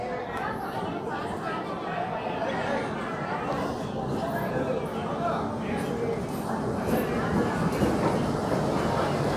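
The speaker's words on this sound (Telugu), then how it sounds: "మన Simhadri express Vijayawada platform number 5కి వస్తుంది, వ్యాగ్ 9 లోకోతో" The Simhadri Express, hauled by a WAG-9 electric locomotive, rolls into platform 5 at Vijayawada station with a steady rumble of wheels and carriages, while a busy crowd chatters on the platform around it.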